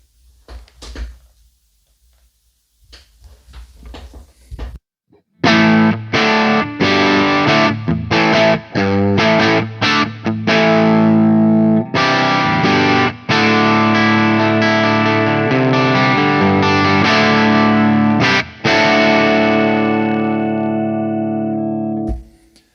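An electric guitar plays chords and single notes through a Marshall-style preamp with all controls at midpoint, lightly overdriven, mostly clean with some crunch, after a few quiet string noises.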